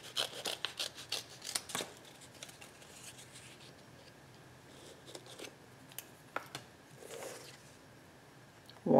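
Scissors cut a shape from paper for a collage on canvas: a quick cluster of soft, close snips at first, then a few sparse cuts and faint paper rustling, all quiet.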